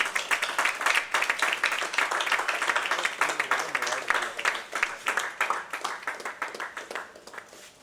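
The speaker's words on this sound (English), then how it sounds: "And a big round of applause." Crowd applause at a book unveiling, many hands clapping in a lively burst that holds strong, then thins out and fades toward the end.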